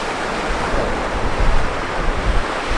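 Ocean waves at Playa Balandra beach near La Paz, Mexico, wash steadily as a broad, continuous surf roar with soft swells, some wind rumble on the microphone, and no voices.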